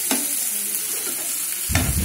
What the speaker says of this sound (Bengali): এখানে পেঁয়াজটা ভালো করে লাল লাল করে ভাজতে হবে